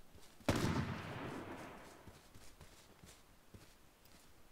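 A single loud gunshot in the video game H1Z1 King of the Kill, with a sharp blast and a long decaying echo, followed by faint, scattered clicks.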